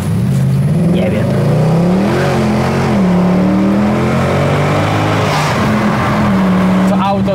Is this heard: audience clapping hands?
no